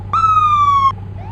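Manual police car siren in the Roblox game, a single loud, steady electronic tone sounding for under a second with a slight downward drift, then cutting off abruptly over a low background hum.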